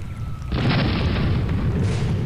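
Cannon and rocket fire from an airship in Air Buccaneers: a loud, close blast erupts after a brief lull and rumbles on with a sustained roar, with no talk over it.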